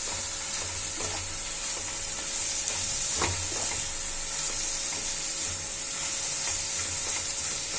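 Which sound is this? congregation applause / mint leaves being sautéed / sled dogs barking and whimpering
mint leaves being sautéed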